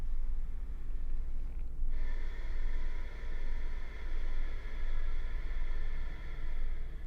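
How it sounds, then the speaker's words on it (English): Soft, steady exhale of breath through the nose with the lips gently sealed, a continuous airy hiss lasting several seconds, close and quiet with no talking. "the lips softly seal and the breath will automatically come out through your nose and it'll be that same sound"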